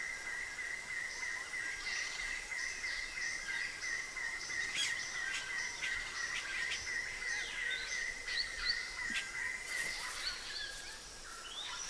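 A colony of birds calls together, with steady overlapping chirps and song over a constant high insect drone, dense and mid-distance, with no voices.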